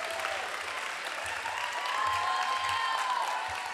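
A school audience applauds students at the Heritage Academy Mesa 2025 awards ceremony. The clapping is a steady, moderately loud crowd wash with faint low voices underneath.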